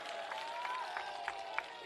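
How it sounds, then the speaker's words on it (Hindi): A crowd at a political rally in Lucknow applauds, a dense, even wash of many hands clapping at some distance, steady throughout with a few sharper claps standing out. "एक बार तालियों के गड़गड़ाहट से स्वागत करो मित्रों"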